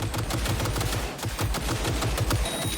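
Video game turret fires in rapid bursts of gunfire, a dense, continuous stream of close, loud shots with a steady low thump underneath.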